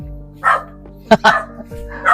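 A dog barks a few times in quick bursts, close by, with a low motor hum underneath.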